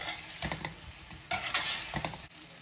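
Spoon scraping and stirring fried potatoes into a sizzling spice paste in a pan, a few uneven strokes over a soft frying hiss.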